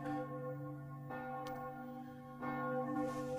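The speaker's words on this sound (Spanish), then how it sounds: "Esta noche es un tañido triste y suave." A church bell tolls softly and slowly, two or three resonant strikes with long ringing decay, distant and quiet with no voices.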